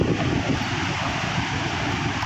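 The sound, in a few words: wind blowing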